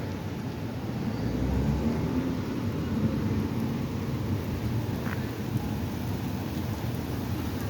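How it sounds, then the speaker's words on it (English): Steady, heavy rain pours continuously in Boston with a dense hiss and low rumble, with no talking. "It is starting to rain, as you guys can see."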